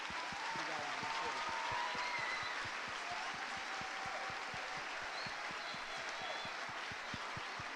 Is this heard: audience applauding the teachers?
yes